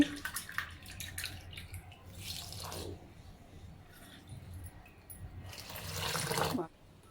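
Water is poured into rice flour in a bowl while making papad batter, with two separate splashy pouring bursts and soft dribbling and squishing in between, close and fairly quiet.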